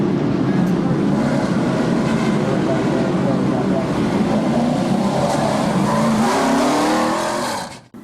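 Race cars roaring around the Midvale Speedway track as a race restarts on the green flag, a dense, steady engine drone of several cars at close range that holds loud throughout, then drops off abruptly at the very end.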